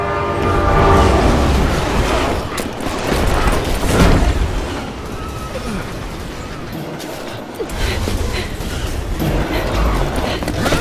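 In the video game Resident Evil 6, a train rumbles and clatters loudly and steadily, with a long horn blast sounding over the rolling noise the whole time.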